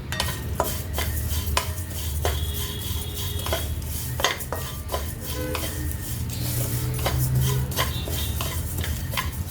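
Flaxseed dry-roasting in a pan, a utensil repeatedly scraping and clinking against the metal with a steady dry rustle of seeds, close and continuous.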